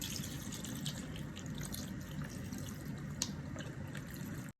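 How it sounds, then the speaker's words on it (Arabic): Milk poured into a soup mixture in a home kitchen, a steady close liquid stream with faint splashing throughout, no talking. "انا هحط اللبن بقى حبايبي اهو بسم الله."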